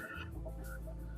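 A person mimics a turkey call with a voice, making a short burst of clucking, gobble-like noises close up over a steady low hum, with no other talking.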